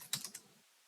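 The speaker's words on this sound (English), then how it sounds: "Or I can type in" A few quick keystrokes on a computer keyboard, three or four light clicks in under half a second, close and soft, then quiet.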